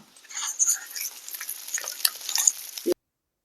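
Fish fillet frying in a pan, a bright crackling sizzle with irregular spits and pops up close for about three seconds before cutting off abruptly, no talking.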